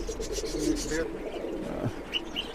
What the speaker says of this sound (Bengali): অনেক ভালো মানের কবুতর